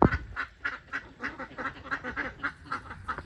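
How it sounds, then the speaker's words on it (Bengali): Ducks quacking loudly and repeatedly in a steady, near chorus, with rapid overlapping calls filling the whole span and no talk over them. "আর হাঁসগুলো এত চেঁচায় না, যখনই ভিডিও করব ওরাও ভিডিওতে দেখবে"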